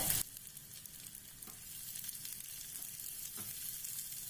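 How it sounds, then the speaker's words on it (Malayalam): Sliced onion and two curry leaf sprigs fry in hot oil for a Kerala fish curry, giving a steady close sizzle with a few soft stirring scrapes and no talk. "ഓയിൽ ചൂടായതിലേക്ക് സവോളയും വേപ്പിന്റെ അല്ല 2 തണ്ടും കൂടി ഇട്ട് കൊടുത്തിട്ടുണ്ട്"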